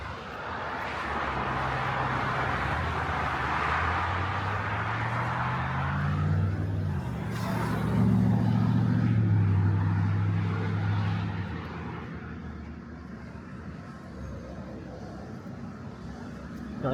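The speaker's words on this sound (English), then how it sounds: "if you can hear me because of the traffic." Road traffic rumbles past on a highway overpass, a steady roar with one heavy vehicle's engine drone rising and fading nearby before the noise settles back to a lower hum.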